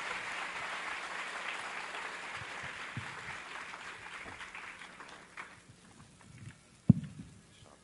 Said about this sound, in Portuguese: Vamos aplaudir ao Senhor pela vida do pastor Cláudio Duarte